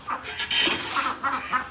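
Chickens, roosters and ducklings let out of a coop on a free-range farm cluck and squawk in short, overlapping bursts, fairly close and moderately loud, with no talk.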